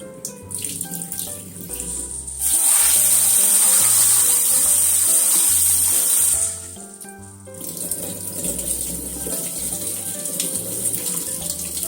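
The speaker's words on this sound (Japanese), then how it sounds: "はい、小豆洗いました。" Tap water runs into a sink for several seconds while 250 g of adzuki beans are rinsed, then shuts off, with soft music playing throughout.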